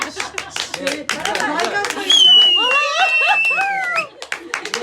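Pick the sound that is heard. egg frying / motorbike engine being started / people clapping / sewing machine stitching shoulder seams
people clapping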